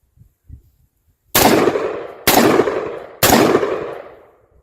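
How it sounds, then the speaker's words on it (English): Three AR-15 rifle shots in M4A1 style, fired semi-automatic at a shooting range, each a sharp loud crack with a decaying tail, spaced about a second apart after a few faint sounds. "I'm going to shoot a few rounds like this with him recording me"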